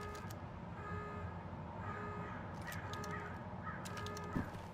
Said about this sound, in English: I like those bird sounds though